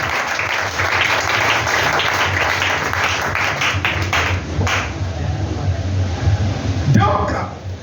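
Congregation in a church service applauding steadily and loudly for several seconds, the clapping dense and continuous with voices mixed in, tapering slightly before a final swell near the end.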